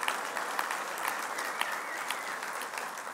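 Dense audience clapping at the opening of an annual conference in San Diego, steady and even throughout, heard from a little distance with no talking over it.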